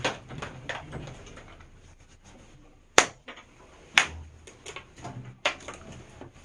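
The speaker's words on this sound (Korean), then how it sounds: "이놈의 박수 익숙해지지가 않아" A few single sharp hand claps from a teacher in a middle school social studies class, spaced about a second apart, close and crisp over a quiet room.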